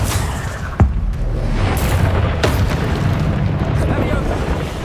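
Confringo fire spell in Hogwarts Legacy bursting with a booming explosive impact amid dense game noise and a voice talking, followed by further rumbling blasts.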